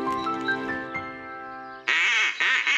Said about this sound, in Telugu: ఆ శబ్దమా? దాన్నందరూ క్వాకింగ్ అంటారు